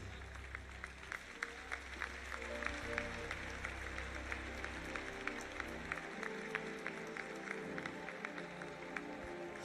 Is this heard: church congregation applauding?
yes